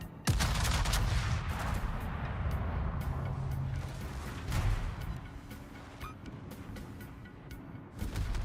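Secondary guns in a video game fire in a dense, rumbling barrage of overlapping booms and cracks, loud and continuous with a few sharper shots standing out, with no talking over it.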